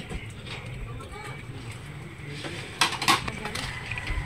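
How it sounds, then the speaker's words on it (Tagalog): Dishes and utensils being washed on an island during rainy weather, with soft clinks and scraping at first, then sharper clatters of plates and cutlery near the end over a steady wet background. "Tagahugas ngayon ng pinggan."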